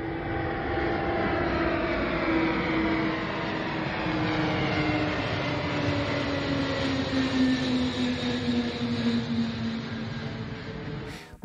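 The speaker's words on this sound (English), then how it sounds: "a nighttime footage of an Anatov AN-124 departing from Los Angeles" Antonov AN-124 cargo plane departing Los Angeles International Airport at night, a loud continuous jet engine roar with slowly sliding whining tones that holds steady throughout.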